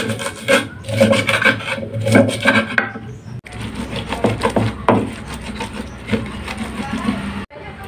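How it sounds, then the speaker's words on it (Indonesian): Salt, mushroom stock and sugar are ground in a stone mortar with a pestle, giving repeated rough scraping and rasping strokes in uneven bursts, close up, with brief pauses between them. "garam, kaldu jamur dan gula pasir secukupnya. Ini kita ulek ya."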